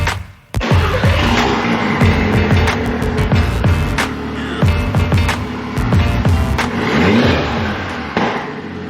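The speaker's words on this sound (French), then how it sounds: "C'est un moteur 5 cylindres turbo qui est assez connu, un moteur Audi qu'on retrouve sur la RS3" Audi five-cylinder turbo engine, as found in the RS3 and TT RS, revving hard in repeated loud bursts with rising and falling pitch sweeps, sharp blips and pops between pulls, close and alone.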